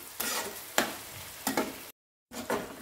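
Mushrooms sizzle with ground chilli and other spices in a pan, broken by several sharp scraping stirs spaced about half a second apart, with a brief silent gap before the frying resumes.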